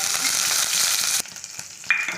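Curry leaves crackle in about two spoons of hot oil in a kadai, a loud dense sizzle that cuts sharply quieter partway through, followed by softer spitting and a brief bright hiss near the end, with no talk.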